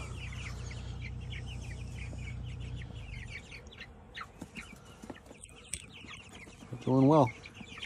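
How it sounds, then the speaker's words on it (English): Meat chickens in a chicken tractor cluck and chirp in soft scattered bursts over a steady low hum, with one louder clucking call near the end; a person speaks briefly. "The meat chickens are doing pretty good."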